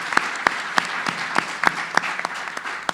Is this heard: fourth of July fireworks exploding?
no